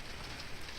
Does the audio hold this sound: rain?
yes